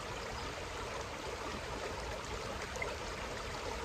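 A forest stream flows steadily and evenly, a continuous broad wash of running water filling the whole stretch with no voices.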